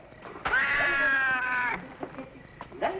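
A cat lets out a long, drawn-out meow close by, followed by a few shorter faint cries, with no talk over it.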